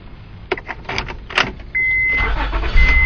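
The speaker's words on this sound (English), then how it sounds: "Car starts right up." A Honda car with a rebuilt ignition lock and newly programmed key: keys jingle and click in the ignition, then a whirring starter brings the engine to a steady idle, close and loud.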